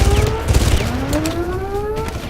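Gunfire from the video game Far Cry rattles in rapid, loud bursts, mixed with engine-like whines and booms during a vehicle chase.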